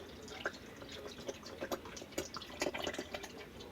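Nutrament liquid is poured over sliced real banana to make a banana shake, giving a quiet, thin trickle with scattered soft drips and splashes that continues steadily for a few seconds, with no talking.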